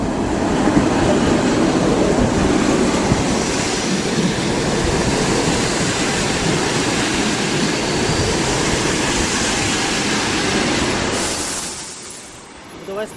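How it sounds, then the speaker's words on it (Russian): A passenger train pulls into a station platform, with a loud, steady rumble and rolling wheel noise filling the whole stretch before easing slightly near the end, while people talk faintly in the background. "Вот, поезд как раз подходит."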